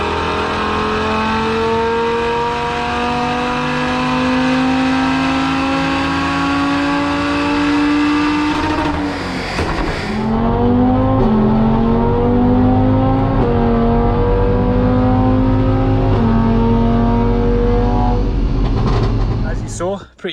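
A tuned 520hp Audi RS3 held at full throttle on a dyno, its loud, steady engine roar climbing through the revs, dropping briefly, then building again before cutting off at the end.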